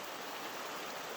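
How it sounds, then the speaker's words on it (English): A creek on the Spruce Nature Trail in the Hoh Rain Forest flows steadily, a constant broadband wash of water that stays even and fairly loud throughout with no voices. "the creek"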